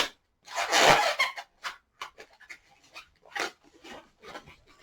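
A latex modelling balloon is twisted into three-finger bubbles while shaping a Pink Panther figure, giving close, intermittent squeaky rubbing bursts with short pauses between twists.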